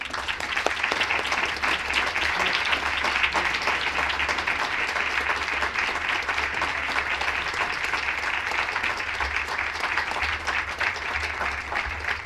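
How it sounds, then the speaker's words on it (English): Audience applause for retiring employee Jeff at the 2018 Environmental Excellence Awards ceremony, a dense, even roar of clapping sustained for about twelve seconds without pause. "So I'd like to give a big round of applause to Jeff."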